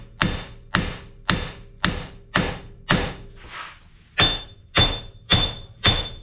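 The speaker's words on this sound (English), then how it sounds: "Give the axle a little bit of tap." Hammer tapping a wheel bearing off a Lexus GX460 axle, about ten sharp metallic strikes in a steady rhythm, loud and close with ringing tails.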